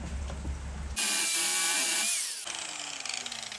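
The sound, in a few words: angle grinder shaping a wood climbing hold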